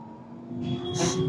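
An OLA Roadster X electric motorbike accelerating, its motor giving a steady rising whine that builds and brightens over about a second, with rushing wind layered in toward the end.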